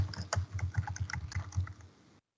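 Fingers type an author name on a computer keyboard in a steady burst of close, crisp key clicks that stops near the end.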